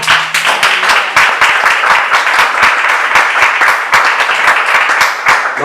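Congregation clapping in church, loud, close and rhythmic, with sharp hand claps falling in a steady beat throughout.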